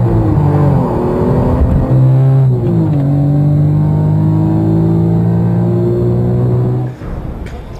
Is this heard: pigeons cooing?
no